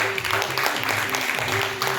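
Applause fills the hall at the opening ceremony of the Rango Bango Natyatsab theatre festival at Muktangan, a dense, even patter of many hands lasting a couple of seconds over a faint steady hum.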